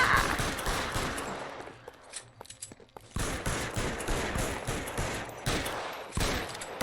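Repeated gunfire in L.A. Noire, a 1940s Los Angeles police game, comes as dense volleys of close, loud shots. A brief lull follows, then the firing resumes in sustained bursts.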